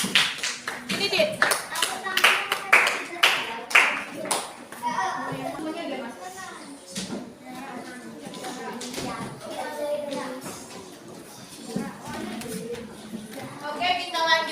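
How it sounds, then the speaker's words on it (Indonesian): Children clapping hands in a classroom, a burst of sharp rhythmic claps at the start, then quieter scattered clapping as children and an adult talk over it. "Tepuk tangan dulu Kak Aditya."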